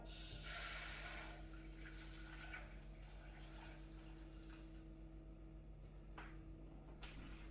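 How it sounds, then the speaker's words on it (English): Water pours into a cooking pan while making butter chicken curry, a splashing rush strongest at the start that settles into a quieter, steady trickle with a few small clinks. "I'm just pouring the water into this pan now."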